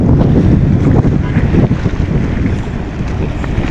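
Strong gusting wind buffets the microphone on a ship at sea as waves slam against the hull, a loud continuous roar with heavy surging thumps, and someone speaks faintly beneath it.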